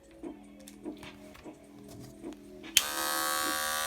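Wahl hair clippers switch on near the end with a sudden bright, steady electric buzz, after a few soft handling clicks and taps.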